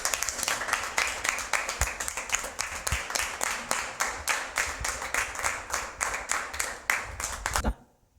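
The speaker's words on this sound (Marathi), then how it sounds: "सरांसाठी एक बार जोरदार टाळ्या होत्या" An audience at a business achievement event gives a sustained, dense round of clapping that runs steadily for about seven seconds, then stops abruptly into near silence.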